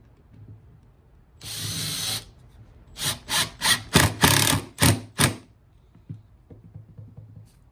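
A power drill fitted with a screwdriver bit drives a screw, giving one longer whirring burst followed by a rapid series of short, close, loud pulses, with quiet pauses in between.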